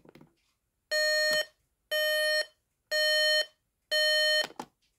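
An alarm clock's first alarm tone: four evenly spaced electronic beeps, each about half a second long, bright and harmonic, loud and close with short gaps between them.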